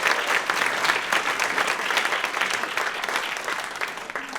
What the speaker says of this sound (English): let's please give all of tonight's winners and nominees one final round of applause